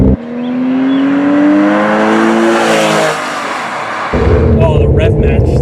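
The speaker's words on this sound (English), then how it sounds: "It's so easy to rev match because the transmission revs so predictably and so quickly." A Porsche 911 of the 996 generation blips its engine for a rev-matched downshift, a loud rising then falling flat-six rev heard from inside, then a sudden jump to heavy road and engine roar.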